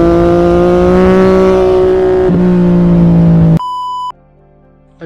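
A vehicle engine drones steadily while riding, a loud sustained hum that shifts pitch slightly partway through, then gives way to a couple of short electronic beeps and near silence.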